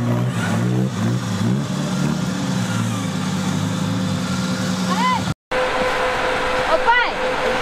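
A 4x4 off-road vehicle's engine growls and revs on an extreme dirt trail, a loud, steady low drone that swells in pitch at moments, with people talking and calling out over it and a brief cut partway through.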